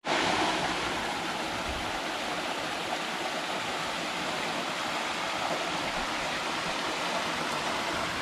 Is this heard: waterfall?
yes